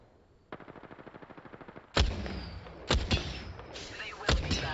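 Gunfire from the Apex Legends video game: a rapid burst of automatic shots, then several heavy, sharp blasts with quieter rattling between them, loud and close.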